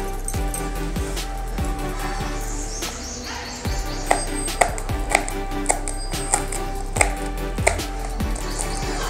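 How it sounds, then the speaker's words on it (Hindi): A knife finely chops green chilies on a board for poha, quick regular knocks in a steady rhythm, close and clear. "अब मिर्ची को भी ऐसे बारीक काट लेते हैं।"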